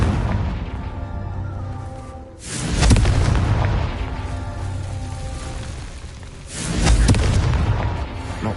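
A Confringo fire spell explodes in Hogwarts Legacy on PS5 as two heavy booms about four seconds apart, each one rumbling and then fading, with no talk.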